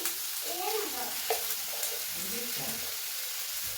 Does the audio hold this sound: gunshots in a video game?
no